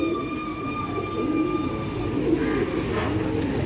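A pair of Ablook pigeons coos close by, low rolling calls repeating over a steady hum and faint tonal whine in the background.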